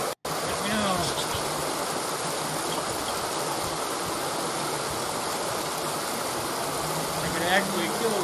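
Steady running water, like a tap or small stream, fills the whole stretch at an even, fairly loud level with no pauses.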